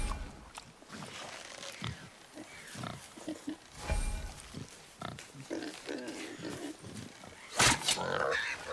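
A wild boar in God of War (2018) grunts and snorts through a game scene, with short guttural bursts scattered across the clip and a louder rough squeal near the end, amid other game sounds.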